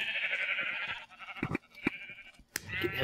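Sheep in the Minecraft video game bleat several times, short nasal calls close by, with brief pauses between them and one sharp cry near the end.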